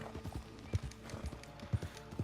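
A horse in the western game Red Dead Redemption 2 trots with rhythmic, close hoof clip-clops in a steady gait, each hoofbeat distinct and regular throughout.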